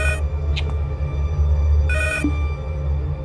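A telephone rings in a horror video game, two bright electronic ring bursts separated by a pause, heard over a low rumbling game ambience with no speech.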